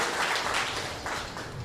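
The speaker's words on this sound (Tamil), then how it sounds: "ஒரு கைத்தட்டு கொடுக்கலாம், ரொம்ப அழகாக சொன்னாங்க" Applause from an audience at a spiritual gathering in Chennai, a brief burst of many hands clapping together, moderately distant, with no voices.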